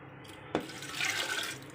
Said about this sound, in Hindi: ओके जी, ये पानी डाल दिया।